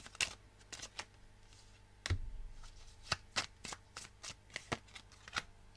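Oracle cards being shuffled by hand, a quiet close series of crisp riffling snaps and slaps in an uneven rhythm, with no talk over it.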